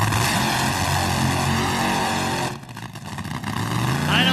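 A Top Fuel dragster's burnout at the 1995 Winston Select Finals thunders as a loud, continuous roar that briefly dips and then swells again.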